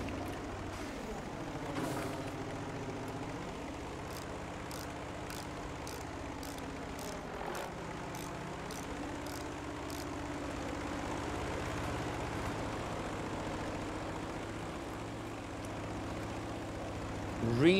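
Propeller plane engine in Battlefield V, a steady droning hum with shifting pitch sweeps running throughout, plus a series of regular faint ticks overhead.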